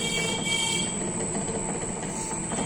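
A three-disk metallographic semiautomatic polisher runs with a continuous close whirring motor hum and high whine, dense and steady throughout.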